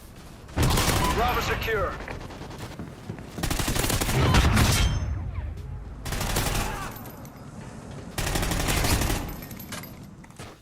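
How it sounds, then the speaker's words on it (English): Suppressed gunfire in Call of Duty: Ghosts, sustained bursts of muffled rapid shots with hit-marker ticks, three long volleys separated by short gaps, while a voice briefly speaks game dialogue over the action. "It was the firing sound mixed with the hit marker sound, mixed with the general design of sound of Ghost"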